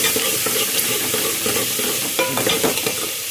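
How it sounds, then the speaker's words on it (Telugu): Okra and tomatoes being stirred together in a hot pan, close scraping spoon strokes over a steady sizzle and frying crackle. "బెండకాయలు టమాటాలు రెండు ఒకటేసారి వేసేస్తున్నాం. మనం జర్ర ఇట్లా కలుపుకోవాలి, మంచిగా కలగాలి."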